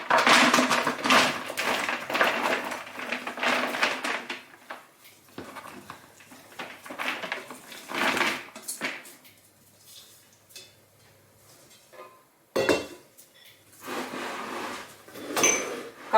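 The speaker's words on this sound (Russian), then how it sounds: "Вываливаем сюда нарезанную капусту." Freshly chopped cabbage is tipped out into a bucket while making sauerkraut, giving bursts of rustling, thudding tumbling with quieter pauses and a final sharp clatter near the end.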